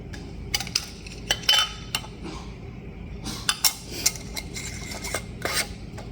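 Glass canning jars clink and rattle against each other and a metal pan in a series of sharp, close knocks and scrapes, some clustered, some spaced apart, with no talking.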